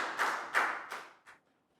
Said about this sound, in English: Big round of applause for down.